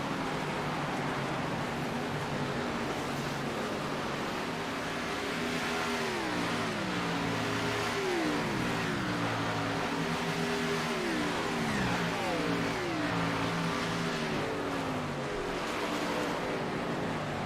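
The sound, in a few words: race truck engines on dirt track at Eldora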